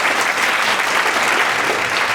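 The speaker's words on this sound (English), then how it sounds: "give a round of applause for these guys" A roomful of attendees at a tech meetup claps loudly and steadily, a dense continuous burst of applause with no talking over it.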